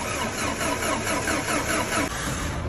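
A 1996 Renault Safrane with a 2.0 engine cranking over, loud and close, with a steady churning rhythm that carries on throughout and never settles into a clear idle.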